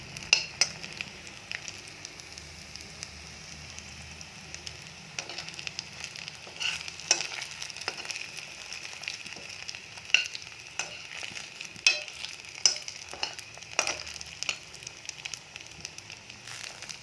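Chira (flattened rice) cutlets fry in oil with a steady close sizzle, dotted with irregular pops and crackles throughout, and no voices.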